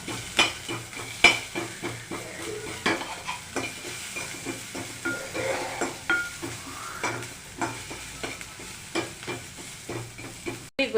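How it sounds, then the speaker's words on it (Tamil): Sliced onion frying in a pan for pea butter chutney, a soft sizzle under repeated scraping clicks of a spoon stirring, steady and close with no talk. "இந்த வெங்காயம் புளி இவ்வளோ தான் நம்ம ஃப்ரை பண்ணி எடுப்போம்"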